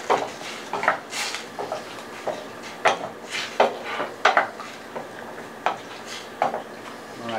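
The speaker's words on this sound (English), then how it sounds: "give it a stir" A spoon stirs a jalapeno pickling mixture in a pot, giving a run of irregular metallic clinks and scrapes against the sides at close range.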